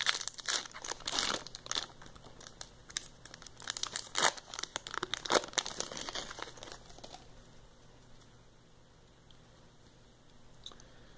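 A foil wrapper on a 2017-18 Upper Deck Series Two hockey card pack is torn and crinkled open up close, a dense run of sharp crackles and rips for about seven seconds that then fades to near quiet.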